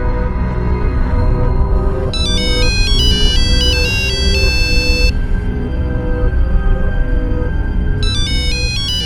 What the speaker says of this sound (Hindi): फोन तो अंदर बज रहा